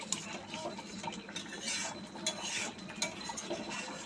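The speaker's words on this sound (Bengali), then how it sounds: "এখন নামানোর সময় একটু কাঁচা সর্ষের তেল দিয়ে দিলাম, দিয়ে একটু নেড়ে চেড়ে নিচ্ছে" A spoon scrapes and clinks against a metal pot while prawn malai curry is stirred after a splash of raw mustard oil, producing soft, close, irregular scraping with small metallic chinks.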